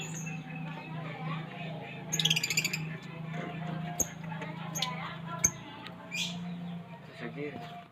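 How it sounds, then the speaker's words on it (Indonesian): A parakeet in a lovebird-breeding setting gives several faint, short chirps and a brief trill over a steady low hum, with soft background noise and no clear talk. "Ini burung parkit namanya."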